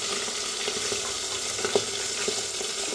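Fish sizzling in a pan with a soft continuous crackle, a few light clinks and taps of a utensil rising briefly above the hiss.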